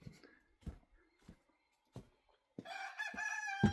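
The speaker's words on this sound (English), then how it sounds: "feeding and water the chickens." Chickens on a homestead cluck in short scattered bursts, close by, then break into a sustained, loud squawking clamour near the end, with no talk.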